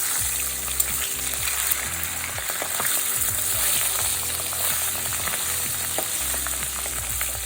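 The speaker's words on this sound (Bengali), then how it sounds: "তিনটে টুকরো হয়েছে, দুটো পাশ আর মাঝখানে আমি 3 টুকরোই ভালো করে ভেজে নেব।" Rohu fish head pieces, salted and turmeric-rubbed, frying in hot mustard oil, with a steady close crackling sizzle and scattered sharp pops throughout, no voices.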